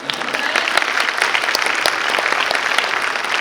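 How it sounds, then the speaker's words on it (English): A steady wash of applause from a convention panel crowd, dense clapping holding at an even level throughout. "Yes, please round of applause."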